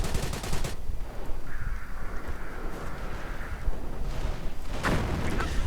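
Heavy gunfire and booming blasts in a real-time strategy battle, a mortar round striking among British soldiers, with rapid bursts and a loud explosion near the end, no talking.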